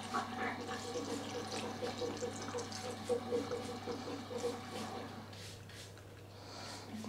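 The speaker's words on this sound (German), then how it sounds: "Und jetzt gieße ich Wasser rauf." Water poured onto food in a home kitchen, a quiet, soft trickling and splashing over a steady low hum from a running dishwasher.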